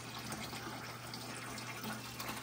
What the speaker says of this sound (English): here you guys can see I am filling up my ATO container again via this hose